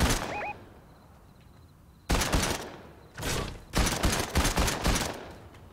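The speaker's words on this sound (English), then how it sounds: "That is gunfire." Bursts of gunfire crack out in rapid volleys after a quiet stretch with faint beeps, the shots loud, sharp and clustered like automatic fire.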